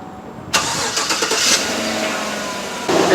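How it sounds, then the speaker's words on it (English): A Chevy Silverado 1500 engine cranks and catches with a sudden start, then settles into a steady idle close by, with a brief rise in revs near the end. "I close the valve and I'm gonna start the engine."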